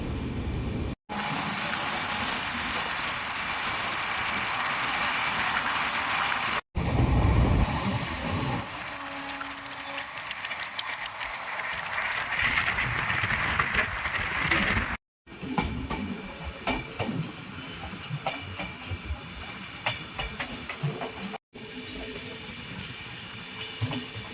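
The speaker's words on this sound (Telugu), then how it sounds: "చూస్తూనే 110 వరకు లాగేసిండు ట్రైన్" Konkan Railway passenger train running nonstop at around 110 km/h, a steady loud rush of wheel and wind roar with rattling carriage noise, broken by a few brief dropouts, no voices.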